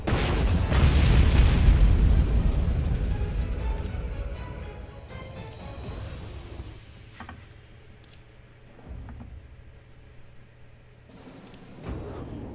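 Artillery in the Panzer Corps 2 strategy game lets off a heavy booming blast that rumbles and fades over several seconds, followed by quieter scattered ticks and pops.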